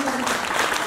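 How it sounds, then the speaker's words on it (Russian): A brief, dense burst of audience applause fills the moment at a Q&A event with Mercedesz Csampai, loud and continuous. "Аплодисменты."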